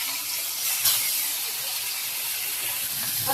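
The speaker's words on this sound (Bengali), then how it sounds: "এখন পোয়া মাছগুলো ভেজে নিব।" Poa fish frying in hot oil in a home kitchen, a dense, even hiss of spattering oil holding steady and close for the whole stretch, with no talking.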